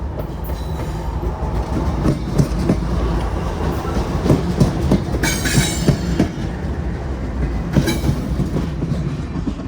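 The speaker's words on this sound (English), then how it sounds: "look, it's a train" A train rumbles past close by with a steady clatter of wheels on rails and occasional high squeals, no voices.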